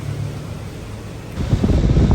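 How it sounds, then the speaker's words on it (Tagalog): Steady rain falls as a broad, even hiss that swells noticeably louder and rougher about halfway through, with low rumbling underneath and no voices. "Medyo umuulan."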